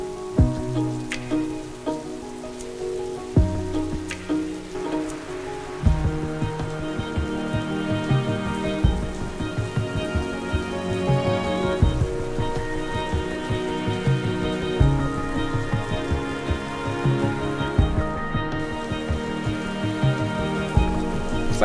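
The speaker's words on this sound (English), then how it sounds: "it's been raining for a couple days" Rain falls steadily on a surface, a continuous patter heard throughout, with dense musical tones layered over it and no talk.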